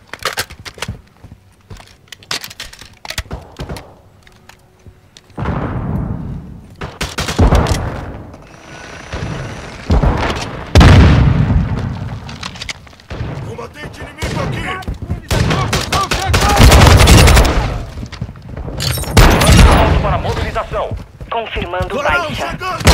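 Semtex grenade blasts and gunfire in Call of Duty: Modern Warfare II multiplayer, loud bursts of automatic fire and heavy booms, dense and continuous in the second half, with a player's voice talking over it.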